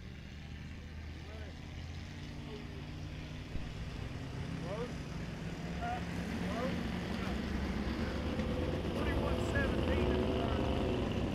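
360 winged sprint car engine rolling out onto a dirt speedway track for a qualifier at Lake Ozark Speedway: a steady low engine drone that builds gradually, heard from a distance with crowd-like ambience.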